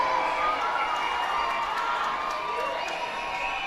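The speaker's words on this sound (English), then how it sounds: "Crowd cheering on Museotti." At a minor-league baseball game between the Hartford Yard Goats and the Reading Fightin Phils, the stadium crowd cheers steadily, a loud, continuous wash of voices and shouts that holds level throughout.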